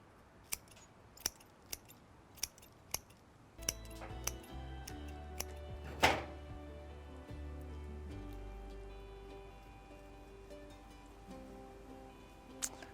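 Flower stems trimmed for a vase arrangement: a series of sharp, close snips with steady spacing, followed by a louder cut and soft rustling of stems and foliage, with no voices.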